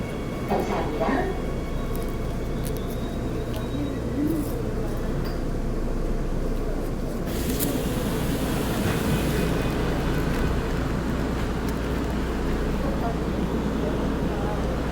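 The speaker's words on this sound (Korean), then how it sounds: "열차 출발했습니다." A subway train leaves a Seoul metro station with a steady low rumble and rising rolling noise of the cars, while voices are heard over it.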